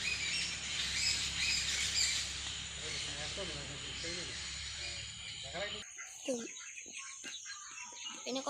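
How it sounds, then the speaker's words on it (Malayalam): Ducklings at a farm pond give thin, repeated peeping calls, shifting between close and farther off, with other poultry squawking and a person talking in the background, and a sudden change in the surroundings partway through. "പിന്നെ കുറച്ച് താറാവുട്ടികളൊക്കെ ഉണ്ട്."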